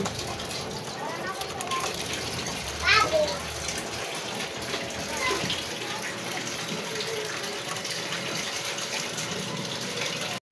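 Pot of pork and potatoes seasoned with a little soy sauce at a rolling boil: steady bubbling and watery gurgling close by, with a brief louder splash early on and a voice talking over it.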